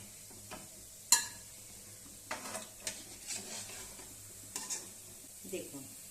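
Ananda naru balls frying in a pan over a low gas flame, giving a soft, steady sizzle with intermittent stirring clatter and a few sharp utensil knocks, no talking.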